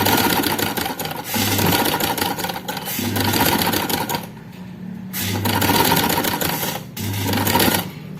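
A sewing machine stitches an A-line frock seam in loud, fast mechanical runs, pausing briefly between bursts of stitching.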